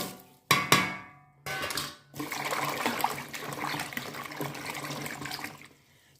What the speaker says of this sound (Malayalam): ഈ വെള്ളത്തിലേക്ക് ഈ വലിയ ഉള്ളിയും ചെറിയ ഉള്ളിയും അങ്ങ് ഇട്ട് കൊടുക്കുക.